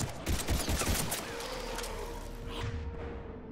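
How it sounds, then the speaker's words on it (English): A Thanix cannon, the Reapers' main weapon in Mass Effect 3, fires amid battle: a cluster of heavy booming shots and thuds in the first second, then a lingering whooping tonal drone as the blasts fade. "Hear that wow sound? That's a Thanix cannon. It's the main weapon of the Reapers."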